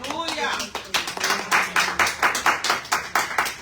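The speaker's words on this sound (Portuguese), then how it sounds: "aplauda o Senhor" A church congregation claps together in a steady, rhythmic beat, the sharp claps regularly spaced and fairly loud, with a voice and some music audible at the start.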